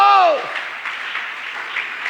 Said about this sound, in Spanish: Alguien le da un aplauso a ese Dios bueno.